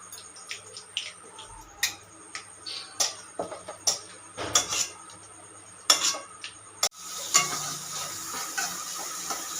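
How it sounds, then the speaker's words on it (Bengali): Onion sautéing in a pan with whole spices: sharp clinks and scrapes of a spoon against metal come in irregular bursts over a quiet background, then a louder steady sizzle takes over near the end. "পেঁয়াজটা মোটামুটি কষানো হয়ে গেছে"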